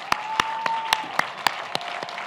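Close, loud hand claps from a single person standing right at a microphone during a university commencement, sharp regular strikes about every quarter second over a faint steady tone, with soft crowd applause behind.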